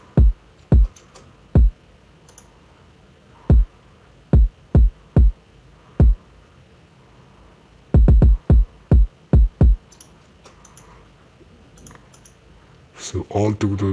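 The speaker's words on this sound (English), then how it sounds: "And then the kicks." Kick drums in an ambient RnB beat built in FL Studio, hitting as a sparse, irregular pattern of punchy low thumps, some grouped in quick runs, with a soft pad underneath and no talking.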